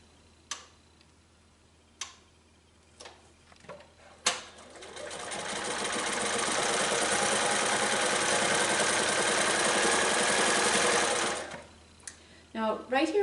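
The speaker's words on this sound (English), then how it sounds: "stitch that one in place." A sewing machine stitches down the fusible binding on a small quilt, running in one steady whirring burst of about seven seconds after a few scattered clicks and taps, then stops as handling noises resume.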